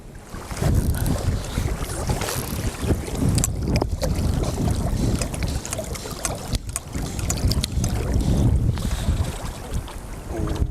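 Strong wind buffets the microphone beside a mountain river in Australia's Snowy Mountains, a loud, continuous roar with gusty rises and dips and no voices.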